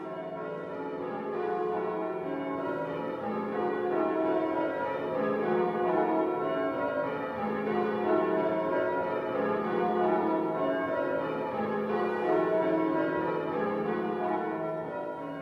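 English church bells ring a continuous change-ringing peal, overlapping tones tumbling in steady sequence, full and resonant, with no voices.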